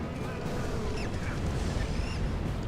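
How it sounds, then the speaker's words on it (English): Birds in the video game Folklore give thin, rising squawks and quacking calls. The calls sit over a constant, dense roar of game noise that masks most of them. "Take out these birds first."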